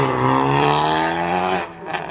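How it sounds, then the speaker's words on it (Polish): A loud, heavily modified 2019 Honda Civic Type R engine revs hard, its pitch climbing and holding in a throaty roar before cutting off abruptly, followed by a brief burst. "usłyszeć najgłośniejszą w Polsce Honda Civic Type R z 2019 roku"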